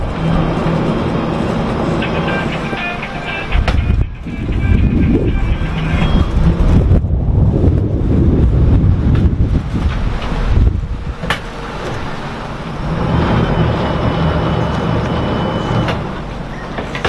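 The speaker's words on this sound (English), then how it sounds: "here comes the wind." Wind roars steadily across a single-engine Mainship 390 cabin boat at Fort Pierce City Marina, a broad, rumbling rush that swells and eases with the gusts, with no clear talk over it.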